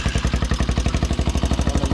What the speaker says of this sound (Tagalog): Ayos pa naman po yung makina nito. Maandar pa yan.